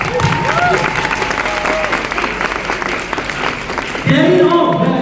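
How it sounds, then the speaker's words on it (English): Steady audience applause from a crowd at a speech event, dense and continuous, with cheering and voices mixed in; a sharper burst of clapping and shouts swells near the end. "So give Sean a big round of applause, please."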